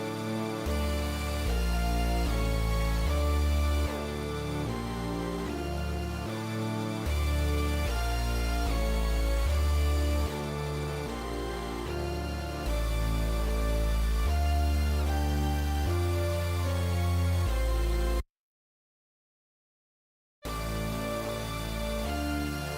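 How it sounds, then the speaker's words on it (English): A synth layer voiced like a stock sampled organ plays sustained chords over a steady bass pulse in a full, loud mix, dropping out briefly near the end before returning. "It's just supposed to be a synth layer that adds color and meaning to the overall synth structure"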